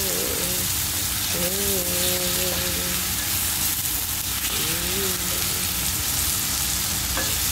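Chicken breast and condol (wax gourd) being stirred in a pan, a dense continuous sizzle with spoon scraping, while a voice briefly speaks over it.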